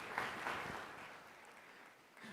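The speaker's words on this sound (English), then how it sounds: "Another round of applause for him" Audience giving a round of applause at a film and TV awards festival, a faint dense wash of clapping from a crowd that slowly fades.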